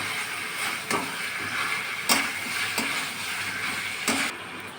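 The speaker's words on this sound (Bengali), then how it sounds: "এবার আমি মশলাটাকে ভাজা ভাজা করে নেব।" Ginger-garlic paste and masala frying in a pan for a home-cooked biryani, a steady close sizzle and hiss with a stirring scrape every second or so, and no talking.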